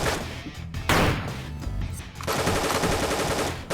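Rapid automatic AK rifle fire in the Dungreed video game, a dense continuous burst of gunshots with a brief pause before a second sustained volley, loud and alone without talk.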